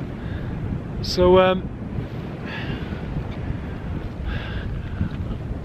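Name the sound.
wind blowing on a mountain summit at a cairn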